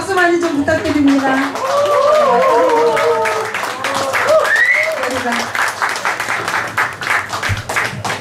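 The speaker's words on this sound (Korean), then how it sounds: "그럼 박수 많이 좀 부탁드립니다." Scattered audience clapping at a small gathering of veteran rock musicians, moderately loud, with a voice talking and singing over it as the clapping thins out.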